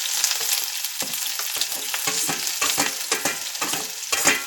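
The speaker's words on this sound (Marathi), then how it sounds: "आता आपण हा कांदा टाकून घेऊ त्याच्यात परतव्यासाठी" Chopped onion sizzling loudly in hot oil in a pan for a Marathi-style dried mandeli fish fry, a steady crackling hiss with sharp pops and stirring scrapes throughout, close and alone with no voices.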